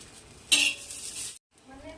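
Chillies dry roasting in a pan for a sesame chutney: a quiet hiss swells into a louder, bright rustling sizzle as they are tossed, then cuts off abruptly before a softer stirring returns, close up with no voices.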